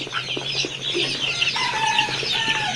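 Young Tiger breed chicks cluck and cheep together in a crowded group, with overlapping high calls and a few brief wing flutters, steady and close throughout.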